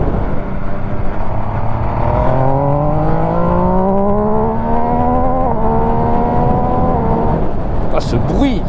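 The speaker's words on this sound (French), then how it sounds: "Ah, ce bruit de claquement. Le shifter, c'est sublime." An MV Agusta Dragster RR motorcycle accelerates hard with a loud, rising engine howl climbing through the gears, a quickshifter clacking at each shift, heard up close from the rider's position.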